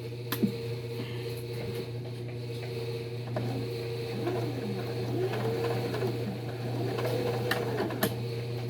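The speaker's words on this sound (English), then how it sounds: "I got the clothes in the dryer. Now y'all can hear it running." A clothes dryer running with a load of clothes inside, giving a steady low mechanical hum with soft tumbling thumps and faint rattles throughout, no talking.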